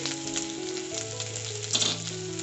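Ginger paste and asafoetida frying in hot oil for a vegetarian jackfruit-seed dal, giving a steady soft sizzle under a melodic music bed.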